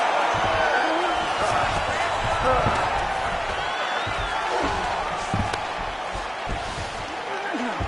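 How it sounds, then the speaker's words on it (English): A UFC arena crowd roars through a fight, a dense and continuous wash of cheering and shouting from a large audience. A commentator's voice runs over it throughout. "crowd absolutely loving it as the fighters, however compromised, make their way back to the feet"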